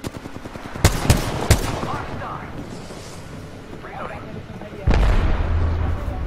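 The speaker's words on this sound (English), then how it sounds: "let's just keep shooting from a distance" Video game gunfire: three sharp shots in quick succession early, then a heavier burst later, all under the chatter of players talking over one another.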